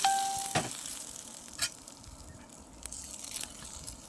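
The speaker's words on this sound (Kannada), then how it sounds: "ಸಾಸಿವೆ, ಒಣಮೆಣಸು, ಕರಿಬೇವು ಹಾಕಿ ಚೆನ್ನಾಗಿ ಫ್ರೈ ಮಾಡಿ ಅದಕ್ಕೆ ಒಗ್ಗರಣೆ ಕೊಡಬೇಕಾಯ್ತಾ" Mustard seeds, dry chillies, curry leaves and garlic are tempered in hot oil for kesa gojju. A sharp hit opens it, then scattered pops and crackles come over a quiet sizzle.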